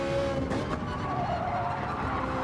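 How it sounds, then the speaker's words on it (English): Ferrari 458 Italia GT3 racing engine in Gran Turismo 7 on the Dragon Trail circuit, a steady sustained engine drone held at constant loudness throughout. "It's a Ferrari 458 Italia. If you don't know, all Ferraris sound like they're trying to kill you."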